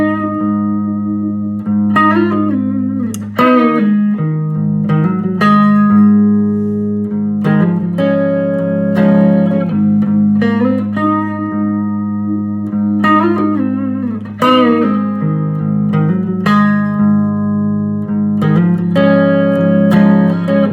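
A PRS Custom 22 electric guitar with coil-tapped pickups plays ringing chords and single notes in a steady rhythm. The tone is clear and sustained, close and fairly loud, with no voices.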